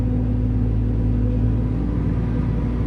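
A 650 horsepower forage harvester running in a wet maize field, a loud steady low engine rumble and drone with a constant hum, close and unbroken, no voices.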